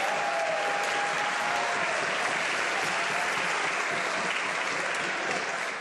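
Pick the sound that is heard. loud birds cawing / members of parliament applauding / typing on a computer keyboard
members of parliament applauding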